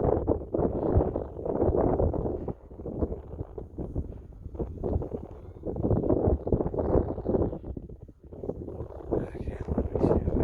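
Wind blowing hard over the microphone at night during an attempt to fly a cheap SU-35 model plane, a continuous rumbling, buffeting roar that swells and dips, close and loud throughout, with talk underneath.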